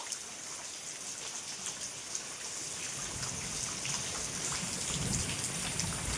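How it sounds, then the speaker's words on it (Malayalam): Steady rain patters on surfaces on a rainy day, and from about midway a low, distant roll of thunder rumbles beneath the downpour, with no voices present. "ഇടി വെട്ടിട്ട് നിങ്ങൾ കേട്ടില്ലേ ഗൈസ്?"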